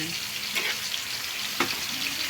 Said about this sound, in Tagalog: Lagay ako na yung repolyo kanini